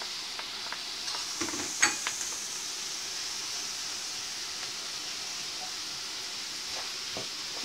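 Mushrooms and olives sautéing in a pan for a quiche, a steady gentle sizzle with a few clinks and stirring scrapes early on, close and moderately quiet without talk.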